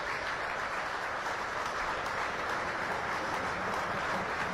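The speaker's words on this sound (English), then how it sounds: "There'll now be 13 seconds of applause" A rugby league stadium crowd claps in a dense, steady roar of applause that carries evenly from a distance without breaks or clear voices.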